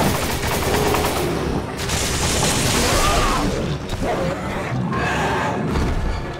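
Gunfire in Resident Evil 5 comes as dense, loud bursts of rapid shots and booms in near-continuous volleys with brief lulls. Players talk faintly underneath.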